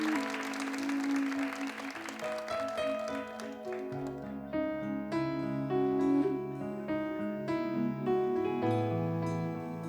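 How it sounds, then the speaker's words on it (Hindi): An audience at a singing contest preliminary round claps in a short burst at the start, which fades as music takes over for the rest. "जोरदार तालियां हो जाए."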